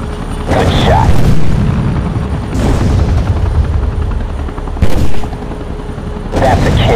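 Gunfire and booming explosions from the video game Modern Combat 3: Fallen Nation sound over a constant helicopter drone, with bursts of shots coming at intervals and loud throughout.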